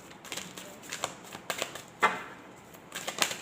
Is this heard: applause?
no